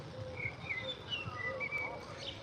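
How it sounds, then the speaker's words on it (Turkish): Several short bird chirps and whistles, moderately close, scattered over steady outdoor background noise with faint low rumble. "Kuş sesleri geliyor."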